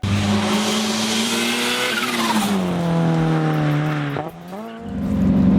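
A 2005–2009 Ford Mustang GT with the 3-valve 4.6-litre V8 roars loud and close under hard driving, its engine note sweeping through gear changes while tyres squeal, with a brief lull before the engine surges again.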